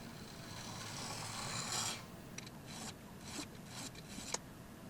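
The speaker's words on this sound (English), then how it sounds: "So I'll line this up so that I have just that flat spot on the diamond plate." A single-bevel VPA Omega axe head rubbed across a diamond sharpening plate makes a steady gritty rasping scrape that continues throughout, close but soft, with brief lighter strokes toward the end and no talking.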